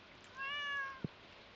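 A cat in Stardew Valley lets out a single clear, drawn-out meow over a soft, steady background, followed by a brief low thud.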